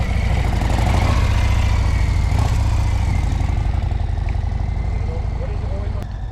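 A Harley Davidson Street Bob motorcycle engine revs hard and steadily as its back wheel spins in sand, a loud continuous rumble close by with a slight fade near the end.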